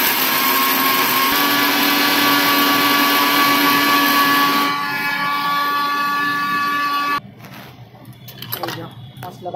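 Electric mixer grinder whirring loud and steady while grinding spice paste at home, its pitch dropping slightly partway through before the motor cuts off and quieter household sounds follow.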